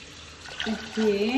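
Water poured from a glass into a pot on the stove gives a brief close splash and gurgle that swells toward the end.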